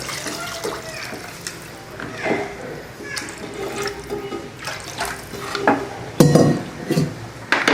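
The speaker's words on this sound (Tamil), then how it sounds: "குழம்புக்கு தேவையான தண்ணி சேர்த்துக்கலாம்" Water splashes and trickles into a pot of vatha kulambu amid clinks and clatter of metal cookware, with a voice speaking faintly underneath.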